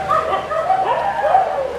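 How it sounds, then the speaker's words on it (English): Several dogs bark and yip at a temple with guardian statues in Bali, a busy overlapping chorus of fairly close barks running steadily throughout, with some voices in the background. "all the dogs are barking because we're probably talking here"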